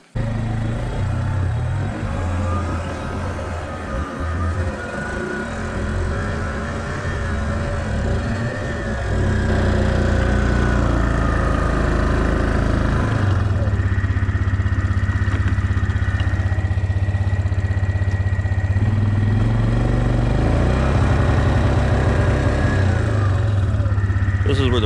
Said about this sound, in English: now this can be done with a two-wheel drive, but you probably do need a Benjamin on the back for extra weight